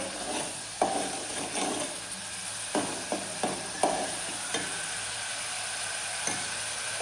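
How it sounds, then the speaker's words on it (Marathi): Coconut paste is sautéed in a pan until brown, with a soft continuous sizzle broken by a series of light spatula taps and scrapes against the pan. "आणि अशी मस्त अशी ब्राऊन होईपर्यंत थोडीशी परतून घेते"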